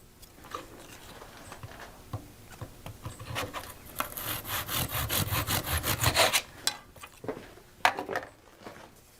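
A hand saw cuts miters in thin wooden glazing strips for a casement window sash, with rapid rasping back-and-forth strokes building to a dense burst, then a few scattered scrapes and taps as it finishes.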